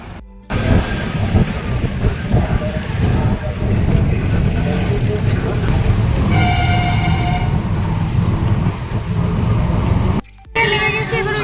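Vehicle horns blare in rainy street traffic, long sustained honks rising loud over a heavy roar of engines and passing vehicles, with a brief pause near the end.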